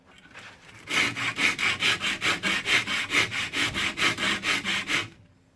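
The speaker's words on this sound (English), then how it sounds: "I've put a sanding belt around a block of wood, and I'm going to use this to file this down to the right size" Cement board filed down with a sanding belt wrapped around a wooden block, about sixteen even back-and-forth rasping strokes in a steady rhythm, close and loud, with nothing else in between.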